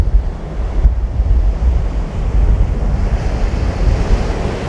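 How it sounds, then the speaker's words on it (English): Ocean waves on an Oregon Pacific beach, a continuous loud rush of surf mixed with wind buffeting the microphone, with no voices. "here we are at the beautiful Pacific Ocean in Oregon"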